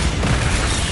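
A Bombarda spell explosion in Hogwarts Legacy makes a dense, loud, booming burst of rumbling noise that fills the whole moment without a break.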